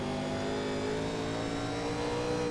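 Several NASCAR Legends 1987 race cars in iRacing at North Wilkesboro, their engines droning loudly and steadily together with layered overlapping tones throughout, close and without pause.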